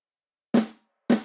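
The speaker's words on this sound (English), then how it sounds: "Without the gate, it sounds this way." Two hits from an ungated MIDI snare drum in the style of Addictive Drums, each a crisp, punchy crack whose tail is left to ring out, sounding alone and spaced about half a second apart.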